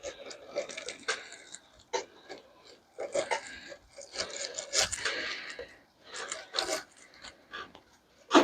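A Sawzall reciprocating saw cuts scrap copper in short, uneven bursts of harsh rasping and grinding, with brief pauses between strokes, close and fairly loud.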